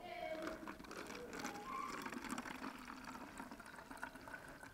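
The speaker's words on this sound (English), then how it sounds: "the last step of this is pouring it in our bottles" Glitter mixture is poured carefully into bottles: a faint, steady liquid trickle heard up close in a quiet room.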